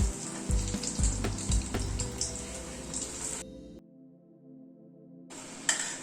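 Small snacks deep-fry in hot oil with a soft, crackling sizzle and scattered pops. The sound drops to near silence partway through, then the sizzle returns briefly at the end, with no voices.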